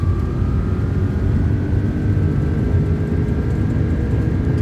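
Airbus A330 engines spool up to takeoff thrust in a flight simulator, a steady broadband roar with a faint rising whine, continuous and unbroken, with no talk.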